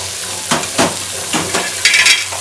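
Parwal cooked dry with masala crackles in a pan, with several distinct scraping strokes of a spoon stirring it over a constant loud sizzle, and no talking.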